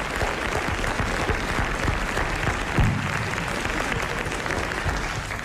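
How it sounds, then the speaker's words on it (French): A studio audience on a French television show from December 1981 applauds steadily, a dense, even wash of clapping that holds at a constant level throughout with no voices over it. "je vais vous demander d'applaudir"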